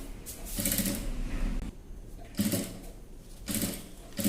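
A sewing machine stitches a child's frock in short bursts of rapid mechanical whirring, three runs separated by brief pauses, close and fairly quiet.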